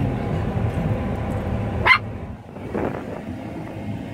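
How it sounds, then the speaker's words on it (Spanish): Small dog giving a single sharp, high-pitched bark close by, followed by a fainter softer yip, over low background rumble and chatter. "tiene muy finito el ladrido y te molesta el oído"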